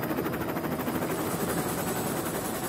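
A helicopter flies over the Arctic Ocean in a force-eight polar gale, its rotor thudding in a fast, even pulse beneath a loud, constant roar that fills the whole stretch without any talk.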